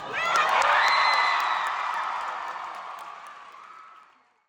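A large crowd cheers and whoops loudly at the MAMA 2024 awards after an award acceptance speech, a dense roar of high-pitched screams that swells at once, holds, then slowly fades away.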